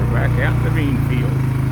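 A four-wheel drive vehicle out in a bean field idles with a steady low engine rumble while shifting out of low range. Someone talks over the engine throughout.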